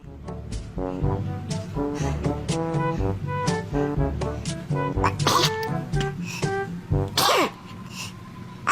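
A baby sneezes amid a busy home scene, with voices, talk and other household noise around it and a sharp burst standing out near the end.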